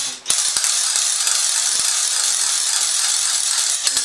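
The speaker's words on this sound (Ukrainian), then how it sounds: "А як називається якось? Трещотка." A trishchotka, a loud ratchet rattle percussion instrument whose spinning teeth strike a tongue, produces a continuous, dense, clattering rattle at close range that starts abruptly and holds steadily throughout.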